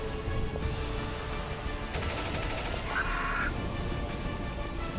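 Bolt pistol fire in a Warhammer 40k Kill Team battle: a burst of rapid shots over a dense, noisy backdrop, followed by a brighter whining blast, loud and close.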